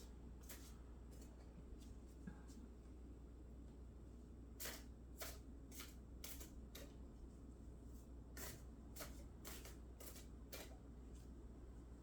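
Animal oracle cards being shuffled at a table, giving quiet riffling and clustered card flicks over a faint steady hum, with no talk.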